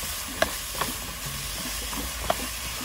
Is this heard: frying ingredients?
yes